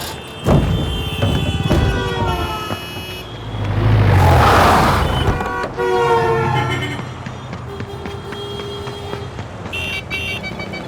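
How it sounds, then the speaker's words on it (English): A film soundtrack of traffic horns, with a train-like horn blaring and swelling as it passes in a Doppler sweep, loud and sustained over rumbling motion, alongside other tonal honks. "we used a Doppler effect of the horns of the traffic"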